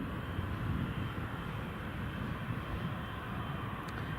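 Emirates airliner at Newcastle International Airport, a faint distant broadband jet roar holding steady throughout, with no talk over it.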